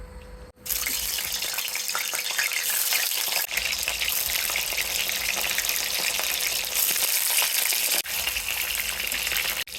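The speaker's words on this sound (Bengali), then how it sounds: "কড়াই দিয়ে দিলাম তেল, ভেজে নিব সুন্দর করে" Mutha dumplings frying in hot oil in a wok, a steady, dense sizzle with a faint gushing quality that holds loud and continuous after a brief quiet start, with one or two short dips.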